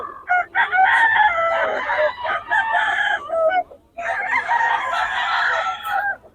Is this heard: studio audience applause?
no